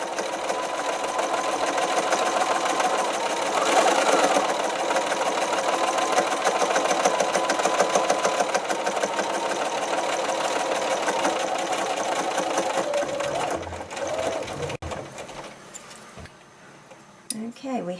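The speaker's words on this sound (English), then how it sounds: "Edge stitch the other side also" A sewing machine runs steadily, edge stitching the straps of a doll-sized backpack for an 18-inch doll, its motor whirring for most of the stretch before slowing and stopping near the end with a few light clicks.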